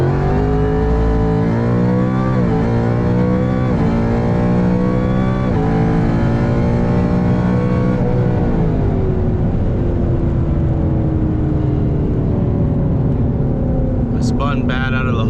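Roush Stage 3 Mustang with a ported supercharger launching hard, engine revving loudly through rising harmonic sweeps, then holding a steady high drone as the car pulls away.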